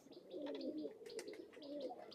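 Pigeons coo softly nearby in low, rolling, throaty calls, repeated in a steady murmur with faint rustling and light background noise around them.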